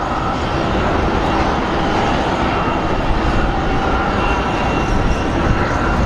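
A Frontier Airlines A320neo airliner at Phoenix Sky Harbor airport rumbles with a broad, steady roar of engine noise, fairly loud and continuous without any talking.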